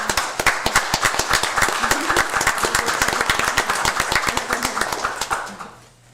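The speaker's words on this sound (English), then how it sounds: "round of applause for you guys" Applause at a city commission meeting, a small group clapping with sharp, distinct claps that carry on steadily for about five seconds before fading out at the end.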